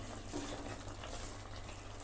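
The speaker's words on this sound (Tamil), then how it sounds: "ஒரு 1/4 டம்ளர் அளவுக்கு தண்ணி ஊற்றுக்கிறேன்." A small amount of water pours steadily into a pot of village-style chicken curry, a faint, continuous trickle heard alone.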